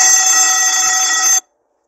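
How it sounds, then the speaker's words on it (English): Electric alarm bell ringing, a loud continuous metallic ring heard alone for about a second and a half before it cuts off abruptly into silence. "Alarm bell."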